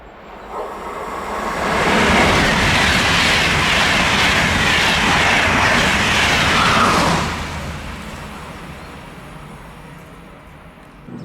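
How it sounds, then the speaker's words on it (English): Intercity train pushed by an Adtranz class 101 electric locomotive passing trackside in Germany, a rushing roar that swells over two seconds, holds loud for about five seconds, then fades as the train moves away. "An Intercity pushed in that case by Adtranz class 101."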